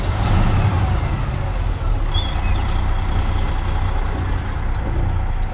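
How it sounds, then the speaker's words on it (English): A heavy truck engine drones loud and steady at close range while the driver downshifts through the gears, with a continuous low rumble and faint hiss of air brakes in the background. "That's downshifting."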